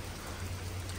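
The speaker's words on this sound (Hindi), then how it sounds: "क्या तेज़ बारिश हो रही है" Heavy rain pours steadily during a thunderstorm in Denmark, a dense, constant hiss of falling water with a low rumbling undertone and no voices.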